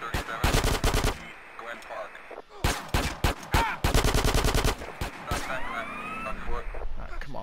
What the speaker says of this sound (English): Got three motherfuckers shooting at you up there